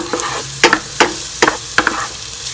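Garlic, onion and ginger sautéing in a pan, a loud close sizzle punctuated by four or five sharp spatula scrapes spaced about half a second apart, with no voices.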